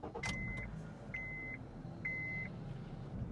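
A Honda Civic Reborn with a 2000cc engine runs with a steady low rumble, broken by three short, evenly spaced electronic beeps. No one speaks.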